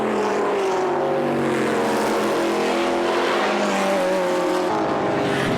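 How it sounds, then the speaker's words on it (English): V8 race cars, including a Ford GT40, racing in the 2014 Surtees Trophy for 1972-era machines, a loud, continuous roar of engines at full throttle with shifting pitch as cars pass close by. "John Young GT40, he just demoted there, the black one, with the white stripe up the middle."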